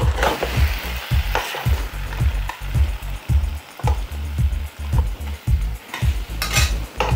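Tandoori chicken pieces frying in oil in a covered pan give off a steady close sizzle, broken by regular soft thuds and clinks every half second or so, like a lid or utensil tapping the pan.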